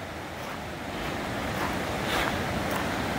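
The high Dungeness River rushes loudly in January, a steady broadband roar of fast water with wind noise on the microphone and no voices.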